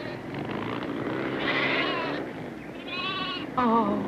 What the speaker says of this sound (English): Oh, you beautiful sheep.